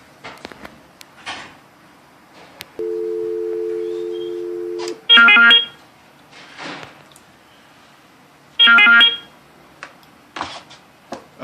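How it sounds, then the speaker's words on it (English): A 317 phone plays its ringtone: a steady electronic tone holds for about two seconds, then two short, bright warbling ring bursts follow a few seconds apart. Light clicks and handling noises fill the quiet gaps. "That continues to be the ringtone we get, as opposed to the ring, which we think would be heard better all over the place."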